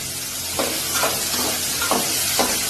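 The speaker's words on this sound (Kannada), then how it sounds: "ಇದಕ್ಕೆ 2 ಸ್ಪೂನ್ಸ್ ಆಗೋಷ್ಟು ಆಯಿಲ್ ನ ಸೇರಿಸ್ಕೊಂಡು ಹುರಿರಿ" Small brinjals fry in oil in a pan with a close, steady sizzle, while roughly five soft rhythmic stirring scrapes recur about every half second.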